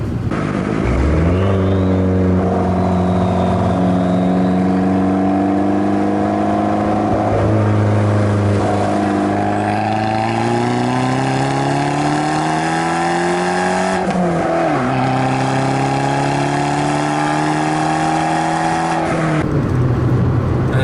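A 2013 Fiat 500 Abarth engine revving up through the gears during a U-turn, loud and close, with rising pitch sweeps broken by shift dips and no talk over it.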